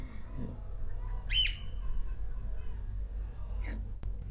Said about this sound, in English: there's like a bird that's been singing for a while now